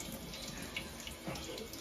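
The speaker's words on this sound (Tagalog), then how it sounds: "First step, you must wash your hands so it's clean." Running tap water pours steadily into a sink during handwashing, a continuous close, soft splashing rush throughout.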